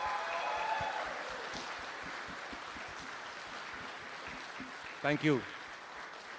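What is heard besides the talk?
audience applause for Krutrim launch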